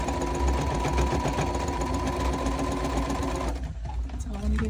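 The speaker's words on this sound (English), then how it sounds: "My sewing machine is not the best," A home sewing machine stitches the sides of puff quilt pieces together, a steady fast mechanical whirr of the needle running close and loud for most of the clip, then easing off near the end.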